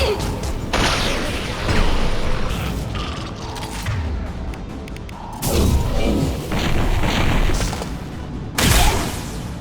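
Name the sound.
bomb explosion in Mass Effect video game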